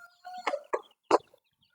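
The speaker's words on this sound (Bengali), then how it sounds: "মুরগিগুলা সুন্দর করে খাবার খাচ্ছে" Five-day-old chicks cluck and peep in a few short, close calls while eating feed in a brooding setup, with no talk.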